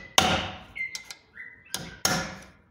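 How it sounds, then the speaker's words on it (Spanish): Hammer blows on a car's control arm bushing, several sharp metallic strikes in a loose irregular series, close and loud, with short ringing tails between hits. "A este le hice lo mismo, le golpeé las dos extremos"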